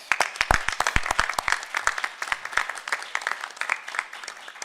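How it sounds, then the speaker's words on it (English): Scattered, distinct claps from a modest audience at an academic symposium, individual hand claps standing out in an uneven rhythm, close and fairly loud, without speech. "I just want to give both of them a round of applause"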